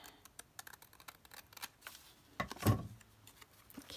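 Scissors cutting paper scraps, a quiet run of small snips and clicks ending in one louder, close crunching cut.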